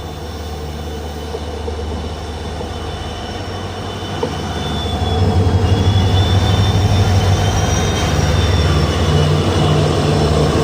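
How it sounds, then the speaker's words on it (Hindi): A WDP4D diesel locomotive, number 40141 from the New Guwahati shed, hauls a train arriving on an Assam line, a steady rail rumble growing noticeably louder midway, with faint high wheel squeal drawn out over the top. "एक और ट्रेन का अराइवल हो रहा है WDP4D के साथ में, 40141 न्यू गुवाहाटी शेड का।"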